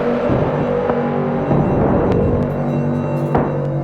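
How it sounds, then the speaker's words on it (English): A harp runs through an Old Blood Noise Beam Splitter effects pedal, giving a dense, continuous processed wash with faint plucked attacks scattered through it, steady and fairly loud. "Then I sent my harp through the Old Blood Noise beam splitter,"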